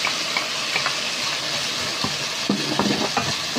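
Garlic frying in a pan with beef, a loud, dense, continuous sizzle with occasional spatula scrapes and stirring knocks, heard up close without talk.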